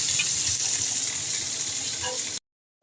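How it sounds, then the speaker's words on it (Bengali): A fish head frying in a pan gives a steady close sizzle with light crackles. It stops abruptly near the end, leaving a brief silence. "আজ মাছের মাথাটা ভাজা বসিয়ে দিয়েছি"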